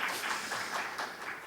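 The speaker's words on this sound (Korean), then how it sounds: "다시 한번 박수 좀 부탁드리겠습니다" Audience applause at a symposium on ICT-based elder care, a steady wash of many hands clapping at moderate volume, sustained evenly throughout with no voices over it.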